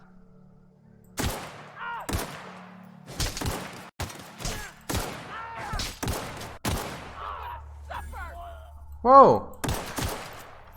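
Gunfire in The Outer Worlds comes as a run of sharp, loud shots in irregular bursts against quiet gaps, with a voice briefly exclaiming over it.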